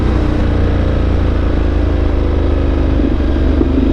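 A Ducati Multistrada 1200 Enduro motorcycle engine runs loud and steady just after a downshift, its close, continuous rumble holding at an even pitch with no talking over it.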